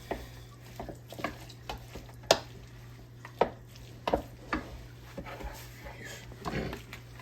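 Ham salad with mayonnaise and relish is mixed in a bowl, giving soft, irregular scrapes and clicks of a utensil against the bowl over a low steady hum.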